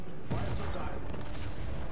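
Rapid gunfire from a Fortnite battle during a live in-game collision event, a dense continuous barrage of shots filling the whole stretch at steady loudness, with speech mixed in.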